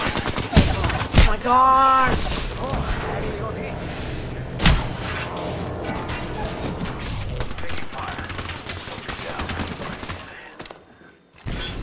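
Heavy gunfire and blasts in the battle royale shooter Apex Legends, loud impacts and shots scattered across the stretch amid game effects, with a player shouting over it.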